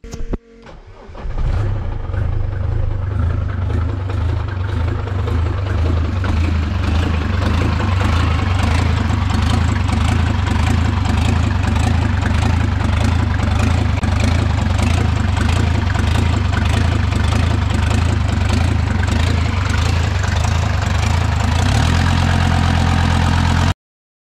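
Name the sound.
car engine started and idling after repair, test start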